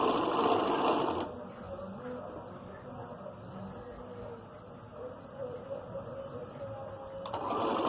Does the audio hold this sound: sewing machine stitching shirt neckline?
yes